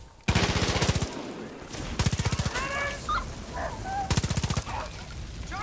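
Rapid bursts of automatic gunfire from the Far Cry 5 video game come in three short loud volleys, separated by game ambience with brief shouts and faint dog-like yelps.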